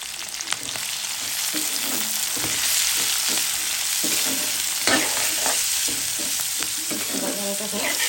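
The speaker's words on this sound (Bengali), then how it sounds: "তারপরে দিয়ে দেবো পেঁপে আলু গাজর ভেজে নিচ্ছি" Papaya, potato and carrot fry in a pan with salt and turmeric, a continuous loud sizzle with repeated spatula scrapes and taps as the vegetables are tossed, no voices.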